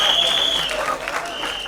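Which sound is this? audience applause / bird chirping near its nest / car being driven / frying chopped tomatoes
audience applause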